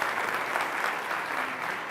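Church congregation clapping together, a dense, continuous burst of applause from many people that stays loud and even for a couple of seconds.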